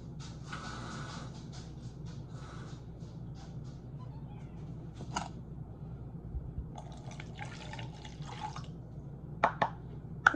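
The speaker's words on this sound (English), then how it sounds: "So let's fill that up with some water." Water poured into a two-thirds measuring cup for making mashed potatoes, a faint, steady trickle with scattered drips and a few louder clinks near the end, no talk.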